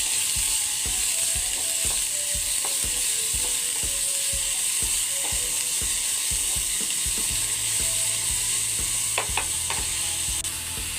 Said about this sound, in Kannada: ಅದೇ ಪ್ಯಾನಿಗೆ ಈರುಳ್ಳಿಯನ್ನು ಹಾಕಿ ಕೆಂಪು ಬಣ್ಣ ಬರೋವರೆಗೂ ಫ್ರೈ ಮಾಡ್ಕೊಳ್ಬೇಕು